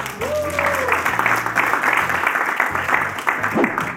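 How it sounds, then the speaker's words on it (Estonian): Studio audience applause on an Estonian quiz show after a correct answer, a steady dense wash of clapping held for several seconds at full level with a brief faint tone and a low hum underneath. "Aplaus, õige vastus."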